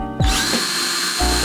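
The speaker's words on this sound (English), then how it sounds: "The drill," A power drill boring holes for wiring in a homemade Titanfall pilot helmet, its motor spinning up sharply and running at a steady high whine before revving again near the end, close and loud, alone.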